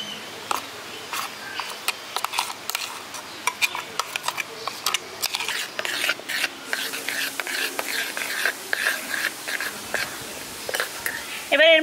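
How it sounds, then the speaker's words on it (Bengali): A spoon stirring mustard and poppy seed paste into beaten sour yogurt in a bowl, steady soft scraping and light clinks repeating close by, with a quiet voice near the end. "এবার এই সরষে পোস্ত পেস্টটা দিয়ে ভালো করে মিশিয়ে নিচ্ছি।"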